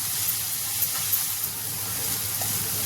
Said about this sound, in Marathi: आपण यामध्ये कच्च्या हिरव्या मसाल्या मिरच्या टाकलेल्या म्हणून ते छान भाजून घ्यायचा